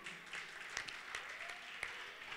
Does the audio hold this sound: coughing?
no